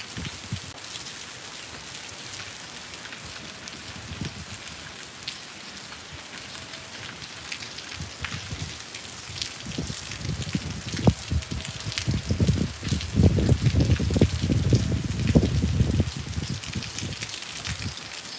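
Steady rain drums on surfaces, soft at first and then heavier and closer, with dense pattering bursts building toward the end.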